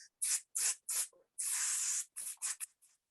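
A voice imitates a spray paint can, hissing in several short bursts and one longer sustained spray, with brief pauses between them.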